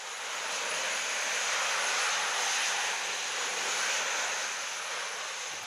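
Jet engines of a jet suit idling at their lowest setting, a steady faint hiss and whine that rises and falls slightly over several seconds, heard alone.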